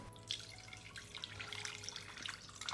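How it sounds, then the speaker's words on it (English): Water poured from a tap or jug into a pan of sliced carrots with butter, a steady close splashing trickle with small drips, no voices. "We put water."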